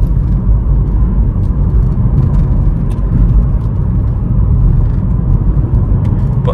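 A BMW M140i accelerating hard on the road, its engine a steady loud rumble and whir throughout, close-up from inside the car with no talk.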